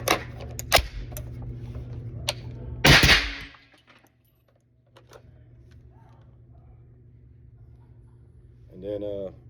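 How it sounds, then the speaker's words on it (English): Two suppressed shots from a 300 Blackout rifle firing 147 grain rounds through an Energetic Peak 30 suppressor: sharp close reports early on, the second heavier with a short decay, then quiet before a brief voice. "I'm gonna go ahead and fire these 2 rounds."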